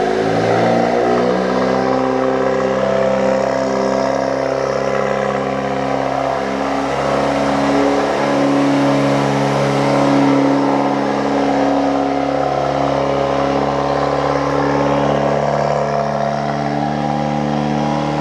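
A Mk8 VW GTI exhaust with the OPF/GPF deleted idles loud and steady on a cold start, a deep sustained rumble with slight shifts in pitch, no voices.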